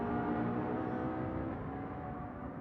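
A race car at the Portimao circuit gives a steady, muffled mechanical drone from on board, heard through the gearbox. Fairly quiet and constant throughout, with no voices.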